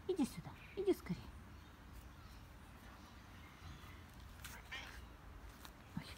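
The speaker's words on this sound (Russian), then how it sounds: "кошка" Two short, faint meows come near the start, then quieter faint sounds follow in a room setting, with voices talking softly.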